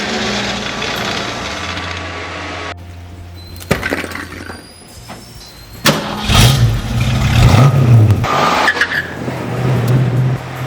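A 1966 Ford Mustang with a 289 V8 engine cranking and catching, a rough rumble that cuts out, then revs unevenly and surges louder near the end.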